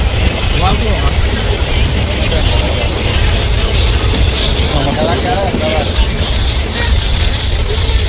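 A passenger train runs from Gandhinagar Jaipur station with a steady loud rumble and rattle of wheels on track, continuous and close, with faint talk underneath.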